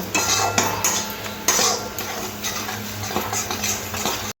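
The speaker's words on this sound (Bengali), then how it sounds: "জল দিয়ে মশলাটাকে খুব ভালো করে কষে নেব" Spice masala with coriander powder and water being stirred in a pan, metal spoon scraping and clinking against the pan in irregular strokes over a soft bubbling background, a few sharper knocks standing out.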